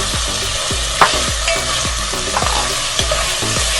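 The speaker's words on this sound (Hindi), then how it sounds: "टमाटर को सॉफ्ट होने तक पकाएंगे" Tomatoes cooking down with coriander, turmeric and chilli powder for a black-eyed pea curry, a steady loud sizzle in the pan broken by regular scraping strokes of a spoon stirring, with no voices.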